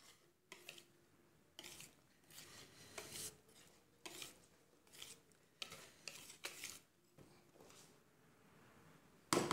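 Cake batter made with grated zucchini and cornstarch being mixed gently by hand in a bowl, with a series of soft scraping, rubbing strokes of a utensil at irregular intervals, quiet and close.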